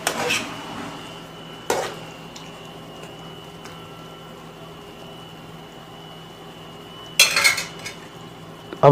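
Potatoes fry in a karahi under a faint steady hum, with a couple of isolated metal clanks early on and a louder burst of stirring and scraping near the end.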